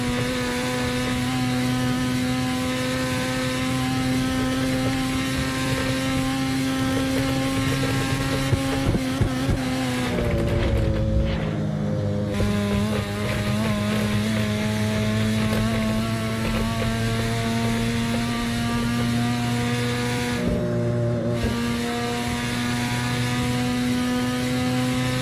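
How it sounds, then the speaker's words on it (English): A car engine strains at top speed in fifth gear in the Assetto Corsa racing game, a loud, droning high-rev whine held steady, with two brief dips and shifts in pitch around the middle and near the end. "the engine sounds like it's gonna blow up"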